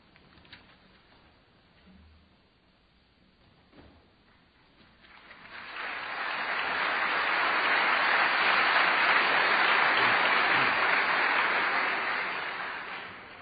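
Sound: audience applause at a debate

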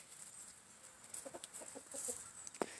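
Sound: rooster clucking

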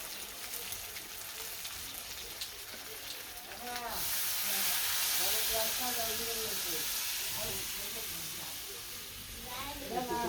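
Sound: meat sizzling while being sautéed in a pan

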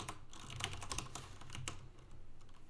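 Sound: typing on a computer keyboard

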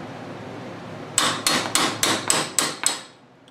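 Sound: hammering a chisel against a nut on a go-kart

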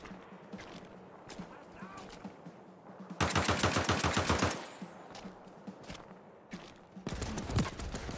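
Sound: machine gun fire in video game Land of War

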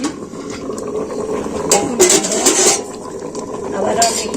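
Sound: lid being placed on a cooking pot

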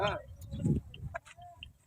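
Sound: chickens clucking

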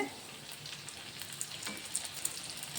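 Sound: egg pieces frying in hot oil

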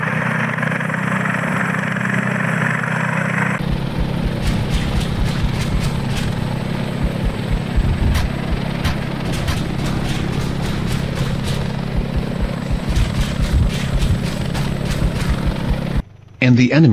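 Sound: Tiger attack helicopters flying in ARMA 3 video game

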